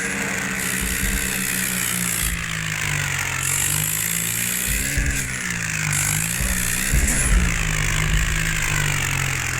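A modified tractor's engine runs steadily up close, a loud, continuous throbbing drone with slight swells in pitch and no voices over it.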